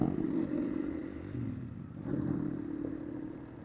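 A small motor scooter engine drones steadily nearby while riding off-road at Coto Mines, Zambales, with faint rattles and scrapes from rough ground.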